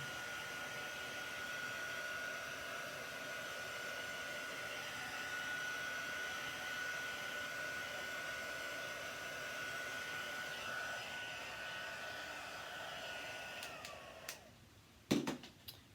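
A heat tool dries ink on a paper card with a steady, close, blowing whir. The whine holds for about fourteen seconds, then winds down with a few clicks and a soft thump.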